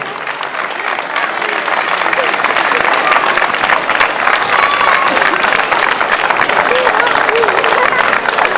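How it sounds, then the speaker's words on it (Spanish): An audience at the Sortzen Jaia 2014 festival claps loudly and steadily in sustained applause, with crowd murmur and voices mixed into the dense, continuous clapping. "le damos un fuerte aplauso a ellos"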